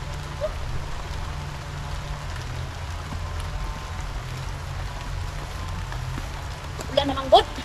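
Steady rain hisses and patters continuously, with a few brief clattering knocks near the end.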